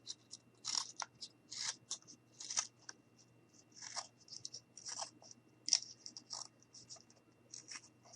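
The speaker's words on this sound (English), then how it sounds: "I'm just going to go ahead and cut this out" Scissors cutting out a piece of felt for a craft pincushion gnome, with quiet, close, irregular snips and crisp rustles repeating steadily, alone and faint.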